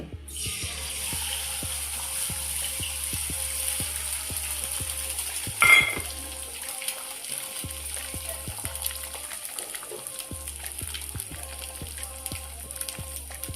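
Three eggs poured into a hot pan for chicken fried rice, a steady soft sizzle and frying hiss running throughout, with a brief louder splash near the middle and faint regular background ticking.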